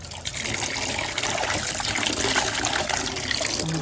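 Tap water runs steadily into a kitchen sink to fill it for washing dishes, a continuous close splashing trickle with no talking.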